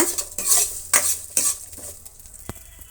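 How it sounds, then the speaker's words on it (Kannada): Garlic and curry leaves frying in a pan while being stirred, three or four close spatula scrapes with soft sizzling, then a single sharp clink near the end. "ಒಂದು ಬೆಳ್ಳುಳ್ಳಿ ಇಷ್ಟನ್ನು ನಾನು ಫ್ರೈ ಮಾಡ್ತಾಯಿದ್ದೀನಿ ಇದರ ಜೊತೆಗೆ ಕರಿಬೇವಿನ ಸೊಪ್ಪನ್ನು ನಾನು ಸ್ವಲ್ಪ ಹ್ಯಾಡ್ ಮಾಡ್ತಾಯಿದ್ದೀನಿ"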